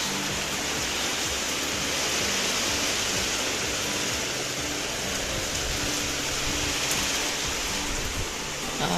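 Heavy rain pours down without pause in a rural farm setting, a dense, loud, steady hiss of water with no breaks.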